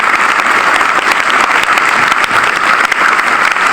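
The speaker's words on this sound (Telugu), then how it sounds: "ఒక్కసారి అందరూ చప్పట్లు కొట్టి గట్టిగా గట్టిగా" An audience at a student award ceremony claps loudly and steadily without a break, a dense, close wall of applause from a large group of people.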